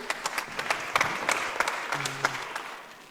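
A conference audience in Nairobi claps for a speaker from Kenya, a fairly sparse applause with distinct individual claps popping out irregularly over a softer background, and faint voices underneath.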